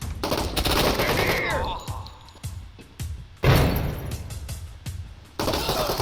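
Soldiers firing guns in the video game Door Kickers 2, dense rapid bursts of automatic fire with sharp cracks and some breaking-glass crashes, loud and close, with no talking.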